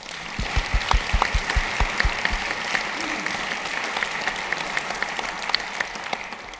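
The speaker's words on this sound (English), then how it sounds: "Can we give them a round of applause?" A round of applause from an audience at a university alumni event, starting with a few loud distinct claps up close and spreading into a steady crowd ovation with scattered sharp claps.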